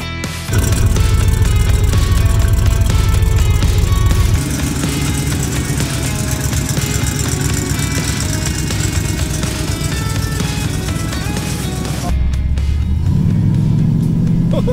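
A 1974 Chevrolet C3 Corvette engine runs loud and steady while driving, a deep constant drone with a brief drop in pitch and then a rise as it pulls again, heard alone.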